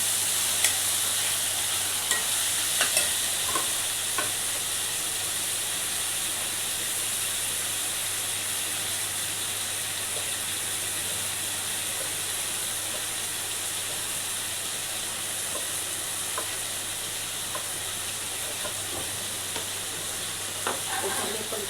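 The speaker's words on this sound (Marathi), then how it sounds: "आणि टोमॅटो टाकूया। चांगलं परतून घेऊया।" Tomatoes sautéing in a pan for a dried-fish dish, a loud continuous hiss and sizzle held steady throughout with only occasional faint stirring clicks and no voices.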